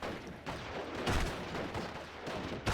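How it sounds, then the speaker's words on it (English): An off-map 210mm artillery strike lands in the Steel Division: Normandy 44 war game, a rumbling series of heavy explosions and booms, with a sharp impact near the end. "210mm off map coming in for Corbeau"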